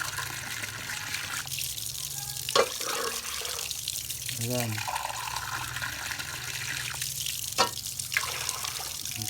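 Three cups of water are poured for a homemade cough and cold remedy, giving trickling and splashing into a pot with a few gurgles and clinks, while a person talks over it.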